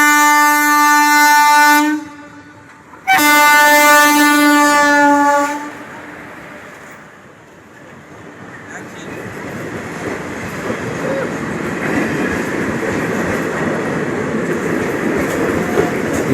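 A passenger train on the Kakinada to Chennai route, still running older non-LHB coaches, sounds two long, loud horn blasts nearby, then rumbles past with building wheel and rail noise.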